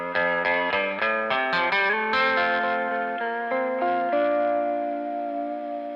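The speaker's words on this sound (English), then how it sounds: "I think it's called the Destroyer machine on the Mobius." Guitar run through the Destroyer machine effect on a Mobius pedal, a fast cascade of bright, heavily processed notes settling into a sustained, decaying chord with echo and reverb trailing off, loud and alone.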